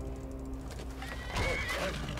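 A horse in the video game Skyrim lets out a loud whinny with hooves clopping nearby, set against a low game backdrop.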